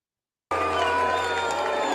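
Raucous crowd of Libertarian Party delegates and supporters at the Libertarian National Convention, a dense, steady roar of cheering and shouting that bursts in after a moment of silence and holds loud throughout.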